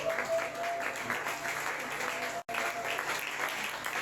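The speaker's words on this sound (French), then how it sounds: "Si nous pouvons acclamer pour la parole du Seigneur." Church congregation applauding, dense continuous clapping from many hands at a moderate distance, steady throughout with one brief dropout.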